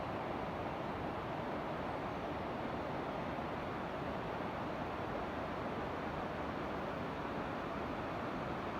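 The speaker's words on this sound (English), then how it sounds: "Can you hear the sound of the river?" The Garavogue, a brown river in Sligo, flowing slowly in the morning, heard as a steady, even wash of water noise with no voices.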